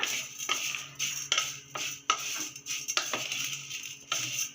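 Vermicelli stirred as it roasts in a metal kadai, the spoon scraping and clinking against the pan in a steady series of close, sharp strokes with no talk.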